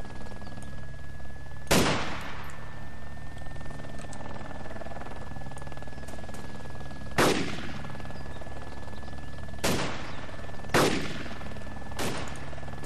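Gunfire in a video game shooter: four sharp, loud single shots spaced several seconds apart over a steady background hum, with no talk.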